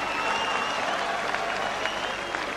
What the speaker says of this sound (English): you can just kind of tell by the way the crowd applauds after each round